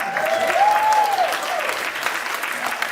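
An audience at the 13th Indie Series Awards breaks into applause, a continuous wash of clapping from a sizable crowd with a brief whistle-like tone rising over it early on.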